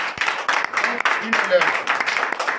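A church congregation in Benin claps and applauds through a Sunday service, steady rhythmic hand claps mixed with cheering voices at moderate loudness.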